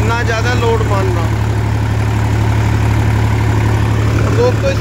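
A Massey Ferguson 245 DI tractor engine runs loud and steady while driving a Maschio 60-blade rotavator, a continuous rumbling drone with someone talking over it throughout.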